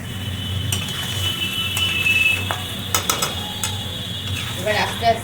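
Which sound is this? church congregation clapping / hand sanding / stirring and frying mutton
stirring and frying mutton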